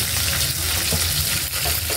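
Sinigang na hipon broth at a rolling boil in a pot, a dense continuous bubbling and sizzling hiss, close and steady without pause.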